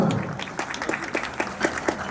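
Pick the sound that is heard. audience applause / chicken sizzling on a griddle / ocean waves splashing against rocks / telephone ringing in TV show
audience applause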